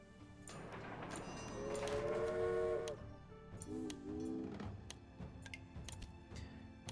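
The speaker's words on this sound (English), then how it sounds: "we'll just get a basic train going that way" A steam whistle sounds twice from a train running in the Railway Empire game, a long tone followed by a shorter one over steady rumbling and ticking game ambience.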